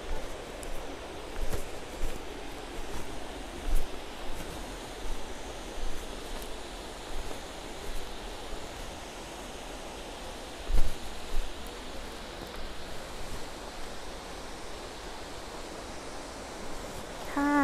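Steady broadband rush of falling water at Si Dit Waterfall in Khao Kho, Phetchabun, Thailand, constant and enveloping, with no voices.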